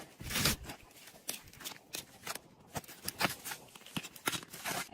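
Roofing shingles being cut by hand in a roof valley, a run of close, crisp scraping and snipping strokes in an uneven rhythm, fairly loud and steady throughout, with no talk.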